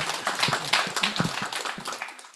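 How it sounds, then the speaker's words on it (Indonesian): Audience clapping at a book discussion on the history of Bank Indonesia's Papua office, steady broadband applause filling the whole stretch with dense overlapping claps, fairly close and moderately loud. "Mungkin kita kasih tepuk tangan dulu buat Pak Wahid dan Pak Fatur."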